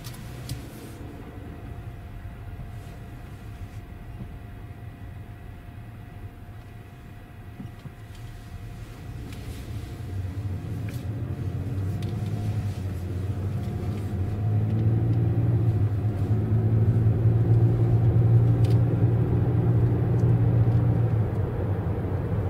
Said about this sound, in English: Wait for a car or two and then we'll turn around